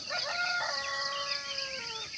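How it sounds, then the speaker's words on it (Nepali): Local farm roosters crow at dawn around 5 a.m. near Dharan, a long drawn-out cock-a-doodle-doo ringing clearly over a faint background of other birds calling. "चराहरूको आवाज अनि यो कुखुराहरूको आवाज। यो चाहिँ लोकल कुखुरा हो।"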